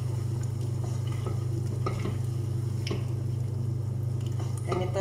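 Makboosh chicken with tomato paste frying in a pan as hot water goes in, a steady loud sizzle with scattered stirring scrapes and bubbling pops throughout.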